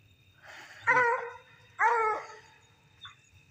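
Hunting dogs bay during a nighttime coon hunt in thick Texas brush: two loud, harmonic barks about a second apart, followed by a faint short yip. No one speaks.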